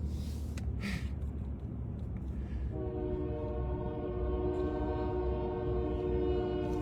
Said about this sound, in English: That's not our horn on our truck. It's a train going by.